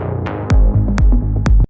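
Punchy brass stab riff from a remix, the original version: four loud, bright synth-brass hits over a heavy low bass, played in a quick syncopated pattern with no talking.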